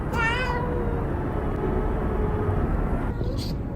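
A stray cat gives a clear, loud meow right at the start, followed by steady background noise and a faint later cry, with no talk over it.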